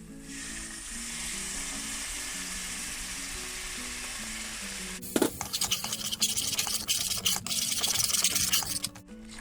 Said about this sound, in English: pour in some water